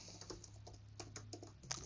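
Quick keystrokes on a computer keyboard as a password is entered while setting up a TP-Link Archer Air R5 router, a soft, irregular patter of taps at close range with no talking.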